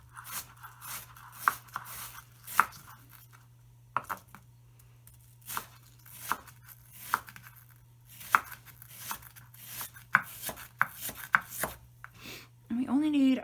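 Onion chopped with a knife on a board, for a small amount of finely chopped onion: irregular knife thuds, some single and some in quick bursts, close and fairly quiet with a steady low hum underneath.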